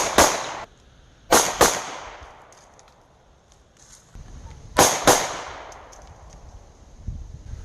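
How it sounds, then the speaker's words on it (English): Pistol shots fired at a target on a range, six sharp reports in quick pairs separated by pauses, each loud and cracking with a ringing decay. "Now I fired, 6 shots? 4 in the head, 2 in the heart"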